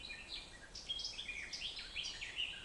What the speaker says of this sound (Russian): Птичка поет такая.